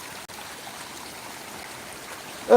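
Floodwater pours into a river during prolonged heavy rain, a steady, moderately loud rushing wash that carries on unbroken, with a brief dip near the start and a louder burst at the very end.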